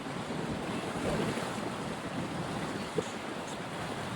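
Gusty wind and breaking surf on a beach at sunset roar continuously, with heavy wind buffeting the microphone and no voices over it.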